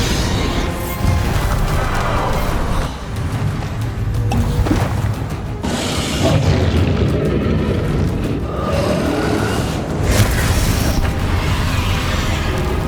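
Repeated spell explosions from Hogwarts Legacy combat, loud booming bursts and crackling impacts layered over a dense, continuous wash of magical effects and rumble throughout.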